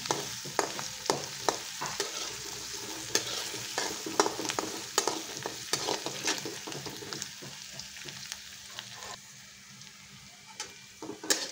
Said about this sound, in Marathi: कांदा चांगला परतत आलेला आहे।